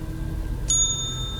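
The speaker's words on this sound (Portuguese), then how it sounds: "A campainha da recepção tocou." A single bright ding from a reception desk bell at a hotel, struck once and ringing on with a clear sustained tone over a quiet low background hum.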